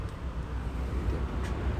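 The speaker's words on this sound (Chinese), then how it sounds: "但是现在有一些堵车" Steady low road rumble from slow traffic in a jam, a dense, continuous drone with no distinct horns or passing vehicles.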